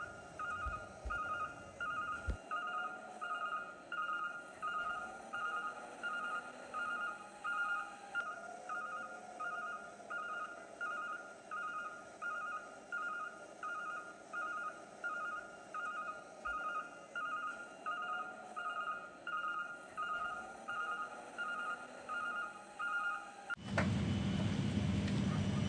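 A garbage truck raises its tailgate and tips its body, giving a faint, steady mechanical whine and hum with a regular pulsing rhythm, then an abrupt louder rush of noise at the very end.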